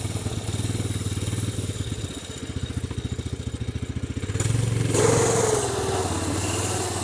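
A snowmobile engine idles after a choke start with a rapid, even two-stroke putter, close and fairly loud. It dips briefly, then revs up into a steadier, higher drone.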